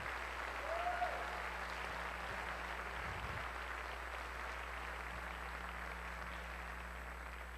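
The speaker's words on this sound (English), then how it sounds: "Let's have a round of applause for the students on stage." An audience at a North Penn High School recognition evening in 2000 applauds for the students on stage, a steady wash of clapping that runs the whole time.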